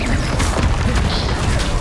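Confringo explosive spell cast in Hogwarts Legacy, a dense, continuous roar of booming, crashing blasts with a sharp burst near the middle, loud and close with no talking.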